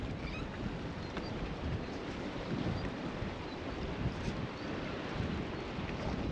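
Steady wind buffets a sailboat lying at anchor in Greece, a continuous loud rush and rumble with microphone buffeting and no voices.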